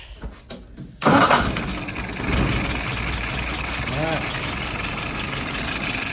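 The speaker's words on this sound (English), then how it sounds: "Let's go ahead and fire it up." An old engine cranks and catches after a second of near silence, then settles into a loud, steady idle around 660 rpm with the choke wide open.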